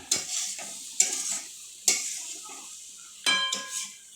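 A spoon stirs melting jaggery for sukhdi in a pan, with sharp scraping strokes at a steady rhythm of about one per second, close and clear over a faint sizzle.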